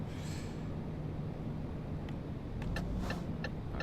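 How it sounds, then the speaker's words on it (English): A car driving past a truck in the Euro Truck Simulator 2 video game near Palermo, a steady engine and road rumble with a few faint clicks and knocks. "Okay, you go past, sir, in your car."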